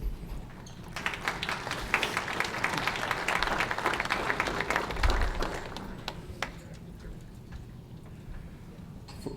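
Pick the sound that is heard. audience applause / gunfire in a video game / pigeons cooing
audience applause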